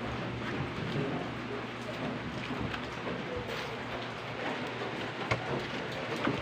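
Steady rain pours down outdoors at a grandmother's place near the sea, a dense even hiss with a low hum underneath and occasional louder drops, no talking.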